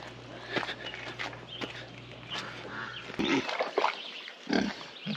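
Pigs on a mountain-land farm grunting and squealing nearby in short, irregular bursts, mixed with footsteps and rustling as someone approaches their pen.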